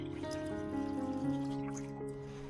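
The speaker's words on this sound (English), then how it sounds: "Next, pour all the coconut water into a clean container." Coconut water trickles steadily into a clean container, a soft continuous pour with faint ringing tones, quiet and close.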